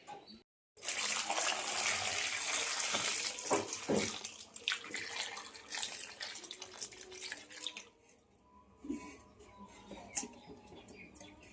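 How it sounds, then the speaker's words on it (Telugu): Tap water runs hard into a sink while potatoes, tomatoes, green chillies and onions are rinsed, with splashing and rustling that eases into lighter trickles and drips toward the end. "బంగాళదుంప, టమాటా, పచ్చిమిర్చి, ఉల్లిపాయ కూడా వేసుకొని శుభ్రం కడిగేసుకొని"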